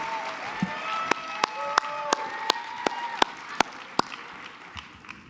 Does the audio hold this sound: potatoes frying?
no